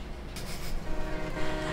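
A train rolling in reverse, a continuous broadband rumble with a couple of brief brighter surges, fairly close and steady throughout.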